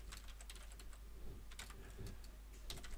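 Typing on a computer keyboard at a PC: quick, irregular light key clicks, faint and close, over a low steady hum.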